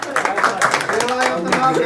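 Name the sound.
audience applause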